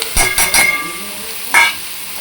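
Spices drop into a hot onion and curry-leaf tempering, giving a few quick bursts of crackling sizzle followed by a brief stirring scrape, close and fairly loud with no talking.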